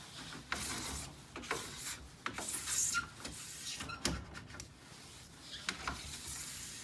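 A plastic scraper drags glide wax off skis, scraping along the edge walls and then the center in a series of short, rasping strokes at close range.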